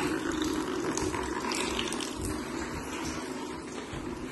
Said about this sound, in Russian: На полу полностью вода.